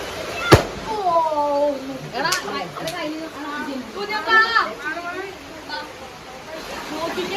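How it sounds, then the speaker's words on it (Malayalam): Firecrackers burst during a Vishu celebration in Kerala: one sharp, loud crack early on, then a few lighter pops, with children's and adults' voices chattering and calling throughout. "നമുക്ക് പടക്കം മാത്രം പൊട്ടിക്കാം കൊച്ചിനവിടെ പൊട്ടിച്ചോണ്ടിരിക്കാണ്"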